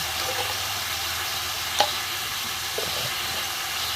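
Cauliflower stems frying in a pan for a vegetarian chorchori, a steady close sizzle running throughout with a brief scrape of stirring partway through, and no talk.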